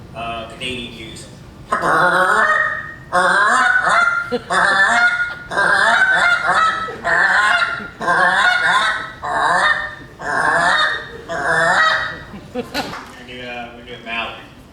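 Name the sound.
voice imitation of a Canada goose call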